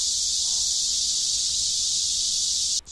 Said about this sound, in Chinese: 蝉鸣四处的啼叫，